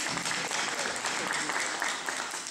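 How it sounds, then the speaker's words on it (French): Audience applauding at an event, a brief, steady burst of many hands clapping heard at moderate distance, with voices faintly underneath. "On les applaudit, on applaudit le matériel à usage unique."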